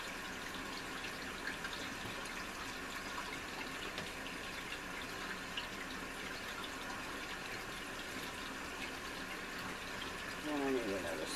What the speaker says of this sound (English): I'll show you how I test it before I start running the hot water on it